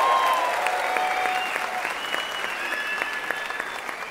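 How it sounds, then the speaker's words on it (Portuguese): Theater audience applauding a comedian at a roast-style stand-up show, steady dense clapping throughout, loud and sustained without voices. "Palmas para ele que lotou esse teatro hoje!"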